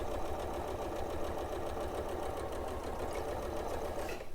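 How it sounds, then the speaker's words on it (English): A sewing machine stitching a quilt seam a quarter inch in from the edge, running in a steady, fast mechanical whir with rapid rhythmic needle beats, loud and close, alone for the whole stretch. "so sewing 1/4 of an inch away"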